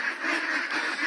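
Itik Pinas ducks in a semi-hanger type duck house keep up a dense, continuous chorus of quacks nearby, loud and unbroken.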